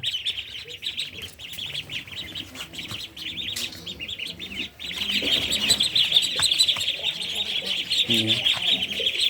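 Seven-day-old Pekin ducklings on a farm give off a dense, continuous chorus of high peeping chirps, growing louder and busier in the second half, with scattered lower rustling and calls underneath.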